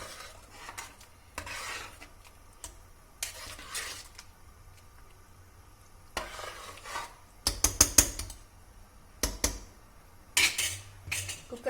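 Spoon scraping and clinking against a pressure cooker pot while mixing mushroom pulav rice with ghee and coriander, in irregular bursts of metallic scrapes separated by quiet pauses, close and fairly clear.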